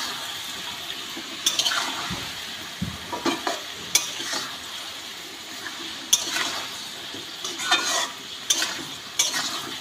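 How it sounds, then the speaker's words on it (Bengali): Greens and mixed vegetables stir-fry with chili paste and spices in a hot pan, with a continuous sizzle broken by repeated sharp scrapes and clatters of a spatula stirring close by. "মশলা দিয়ে ভালো করে আমি শাক সবজিগুলো ভেজে নেব।"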